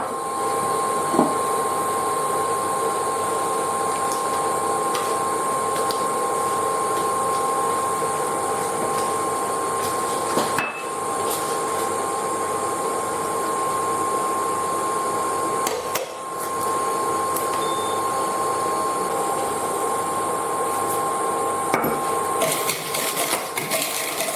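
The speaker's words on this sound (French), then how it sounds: "Je vais blanchir les œufs avec le sucre, les jaunes d'œufs avec le sucre." Egg yolks and sugar being whisked vigorously for a cake, a steady, loud, continuous whirring that runs almost unbroken for the full length, with a couple of brief dips and no talk.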